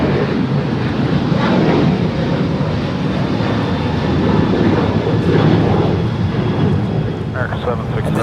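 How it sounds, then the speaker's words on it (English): A seven-year-old United Boeing 737-900ER departing Los Angeles International for Vancouver produces a broad, sustained engine roar, swelling slightly, while people talk over it. "And this is United 608 departing to Vancouver. It's a 7-year-old 737-900 ER."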